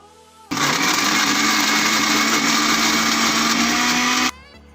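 A blender grinds raw mango chutney paste with a little water, running loud and steady for about four seconds with a constant high whine, then cutting off abruptly.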